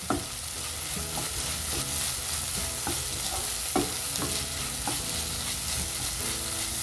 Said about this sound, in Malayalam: ഇനി എല്ലാം കൂടി ഒന്ന് മിക്സ് ചെയ്ത് കൊടുക്കാം.